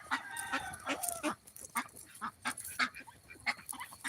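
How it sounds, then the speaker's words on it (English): Backyard ducks on a farm give repeated honking quacks in uneven bursts, moderately near and fairly quiet, several calls overlapping across the few seconds. "And then, of course, we have our ducks back here."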